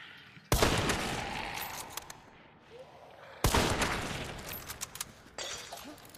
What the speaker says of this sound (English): Wait, someone's shooting at me?